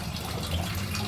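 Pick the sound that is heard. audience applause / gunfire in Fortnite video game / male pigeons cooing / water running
water running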